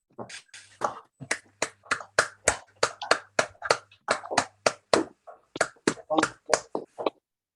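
Sparse applause from a small audience at a bus industry talk, heard as about twenty distinct, evenly spaced claps, close and fairly quiet, with a faint hum underneath.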